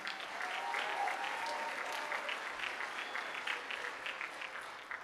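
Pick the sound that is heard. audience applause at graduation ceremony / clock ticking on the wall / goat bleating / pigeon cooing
audience applause at graduation ceremony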